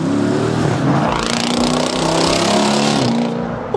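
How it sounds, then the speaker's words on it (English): Jeep Cherokee SRT engine revving hard while driving, a loud, throaty V8 roar that climbs and drops through gear changes inside the cabin, with no talking. "Listen to this car."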